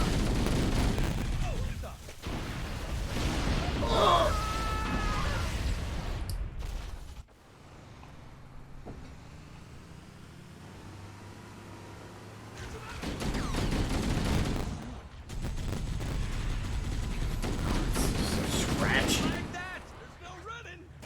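Bursts of sustained gunfire from a gunner in the Halo video game, heavy rattling volleys in two long stretches with a quieter gap between, loud and close, with voices talking over parts of it.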